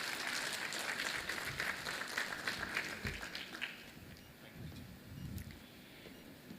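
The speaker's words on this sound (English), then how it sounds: "Big round of applause, please." Audience applause at an inaugural programme for a festival, steady broadband clapping filling the first few seconds, then thinning and tapering to scattered claps near the end.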